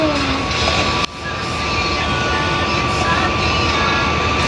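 A loud, steady roaring air conditioner drone fills the room with a constant whoosh, briefly dipping once before resuming.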